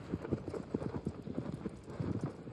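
Horse hooves clip-clop in the video game Shadow of the Colossus, a quick steady rhythm of close, distinct hoof strikes on the ground without pause.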